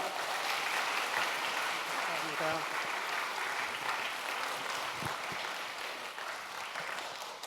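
A church congregation applauding steadily throughout to welcome a pastor, dense and continuous clapping that gradually eases slightly toward the end, with some voices mixed in.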